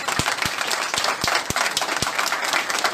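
A brief burst of crowd applause at a political rally in Côte d'Ivoire, with sharp individual claps standing out over a loud, continuous wash of clapping.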